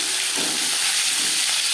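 Marinated Bhola fish sizzling as it goes into hot mustard and refined oil, a steady, loud, broadband hiss and crackle that holds evenly throughout with no talk over it.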